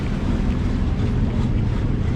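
Ferry crossing the water in Amsterdam, with a steady low engine rumble and water wash mixed with wind buffeting the microphone throughout.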